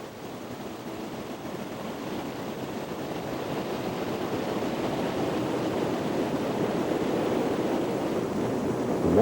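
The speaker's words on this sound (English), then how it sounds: "The water tumbles down a series of 3 waterfalls for a total drop of 380 meters." Alpine river in the Salzach Valley falling over a series of three tall waterfalls, a steady broadband roar of rushing water that grows slightly louder and fuller, with no voices.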